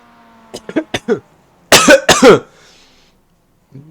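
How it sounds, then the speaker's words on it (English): A short burst of several coughs, then a louder, harsher pair of coughs after a pause, close and dry, followed by quiet. "you got to witness coughs"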